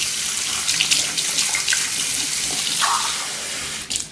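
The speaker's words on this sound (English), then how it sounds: "mix it with some hot water" Hot water pours steadily from a tap into a cup, a close, hissing splash that runs throughout and briefly shifts in pitch near the end.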